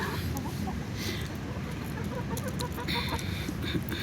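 Hens cluck and murmur close by in a dense, continuous farmyard chatter, with occasional higher calls over the busy background.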